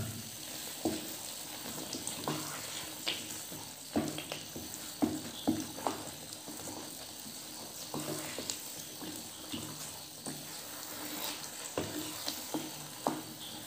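Halva cooking in a pan with a spoonful of ghee just added, a steady sizzle with repeated scraping stir strokes and soft clinks running throughout at moderate, close range.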